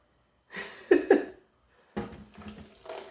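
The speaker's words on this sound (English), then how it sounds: "And let's just go ahead and put the water in there." Water splashes into a measuring cup while coconut cream is being made, coming in a few short, quiet pouring bursts separated by silence.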